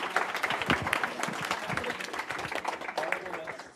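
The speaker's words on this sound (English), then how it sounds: "Clap it up for Anthony, everybody." Audience applause at a college club meeting, a burst of close, busy clapping lasting a few seconds with voices mixed in.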